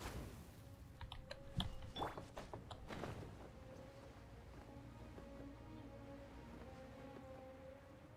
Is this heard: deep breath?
no